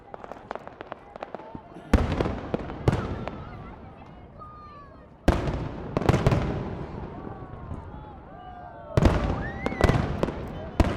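Fireworks burst in several sharp, loud booms spaced a few seconds apart, each followed by crackling and a fading rumble that echoes outdoors. Faint distant voices can be heard between the bursts.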